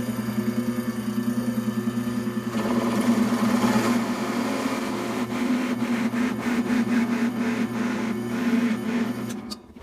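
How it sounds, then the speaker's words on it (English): A drill press turns at its slowest speed, boring deep into a workpiece with a steady, close mechanical hum and a faint whine that stays even throughout, with a slight rise in grinding texture partway through. "I have it on pretty much the slowest speed that the drill press can go"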